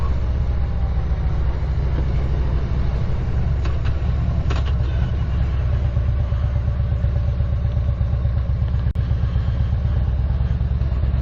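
Motorcycle engine holding a steady low drone through a series of corners, loud and close, with continuous road and wind rumble and a brief sharp click near the end; no talking.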